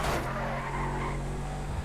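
Car in Grand Theft Auto V skidding and slamming into a pole, a loud burst of tire screech and impact at the start followed by a steady engine drone.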